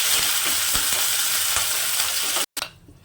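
Mustard seeds and curry leaves sizzle in hot oil for a tempering for a horse gram curry, a dense, steady crackling hiss with faint pops that cuts off abruptly near the end.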